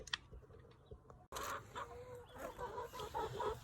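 Backyard hens in a hemp-bedded Over EZ chicken coop, giving soft, close clucks and short murmuring calls in an uneven rhythm, with a sharp knock or door noise partway through.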